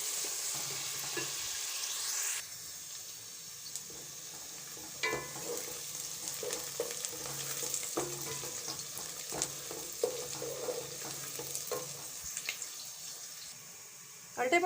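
Onions frying in oil toward light brown for a tangy ulte palte curry masala, a steady soft sizzle with intermittent stirring scrapes and clinks, close and moderately quiet.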